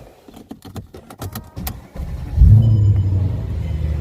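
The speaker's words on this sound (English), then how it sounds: "I'm going to start the car up right now." Mercedes-Benz W211 E-Class with a worn, wobbling water pump: keys jangle and click first, then the engine cranks and fires at about two and a half seconds, settling into a steady close idle rumble.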